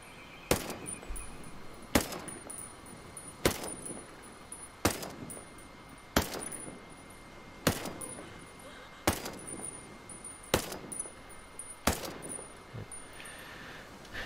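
Ten unsuppressed shots from an M4 rifle in the video game Ghost Recon Breakpoint, each loud sharp crack followed by a brief tail, fired at a steady rate of roughly one every one and a half seconds.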